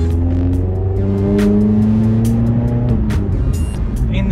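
A car with a throaty Cobra sports exhaust drives along at about 30 mph, its engine droning loud and low and shifting pitch slightly, heard from inside the cabin.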